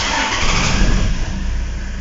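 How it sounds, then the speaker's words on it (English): A car engine cranks and catches on a start attempt after the battery terminals are checked, settling into a steady loud running rumble with no talking. "now let's start our car"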